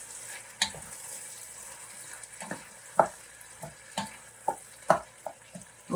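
Freshly minced garlic frying in a pan, with a soft continuous sizzle under sharp clinks and scrapes of stirring at an irregular pace, close and moderately loud.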